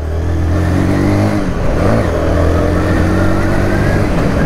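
A Zontes V310 motorcycle engine revs hard and close, a loud continuous drone whose pitch swells and dips as the throttle is worked, with no voices over it.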